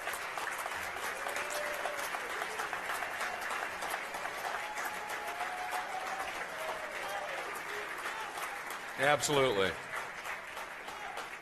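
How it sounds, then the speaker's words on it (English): Audience applause for the racing crews at the Pirelli World Challenge year-end banquet, a steady wash of clapping filling a large room throughout, with a voice speaking briefly over it near the end. "how about a round of applause for the remarkable crews"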